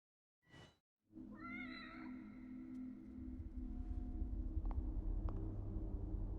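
A cat meows several times in The Evil Within DLC horror game, a short cry followed by a longer drawn-out meow, then low droning ambience that swells and continues under it.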